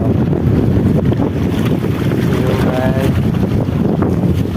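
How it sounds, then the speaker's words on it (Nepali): A steady motor boat engine drones under heavy wind rush and water noise at Therakkal Fish Landing Centre, Kerala, loud and continuous throughout. "यो बोटहरू चाहिँ सबै मोटरबाट चल्ने सिस्टम हो कि"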